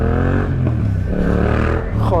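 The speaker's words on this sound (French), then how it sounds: "le bruit de cette moto c'est magique" A motorcycle fitted with a chicane exhaust, its engine droning loudly and steadily close by, rising slightly in pitch, with a person talking over it.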